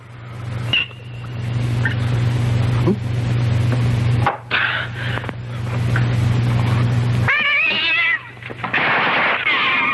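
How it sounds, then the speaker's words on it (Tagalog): A cat meows a few times amid a steady low engine hum, the cries short and fairly close, with a longer wavering yowl near the end. "pusa yun"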